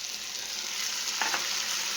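Onion, capsicum and ginger garlic paste fry steadily in a pan, giving a continuous soft sizzle with no voices.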